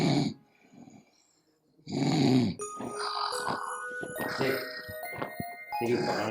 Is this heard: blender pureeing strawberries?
no